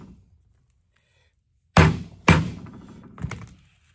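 Two sharp metallic thunks strike the gearbox housing of a John Deere 430 baler during a rebuild, close and loud, followed by a softer knock about a second later.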